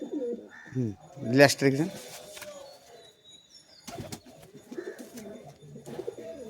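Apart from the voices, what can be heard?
pigeons cooing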